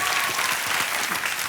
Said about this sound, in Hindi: तालियां बज जाएं प्रद्युत के लिए